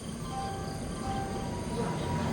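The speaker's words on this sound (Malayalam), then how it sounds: "അങ്ങനെ പറഞ്ഞതിലും ഒരു 10 മിനിറ്റ് ലേറ്റായിട്ട് ട്രെയിൻ വന്നിട്ടുണ്ട്." A train rumbles at Kollam railway station, a steady low rolling drone with faint metallic tones over it, continuous and fairly close throughout.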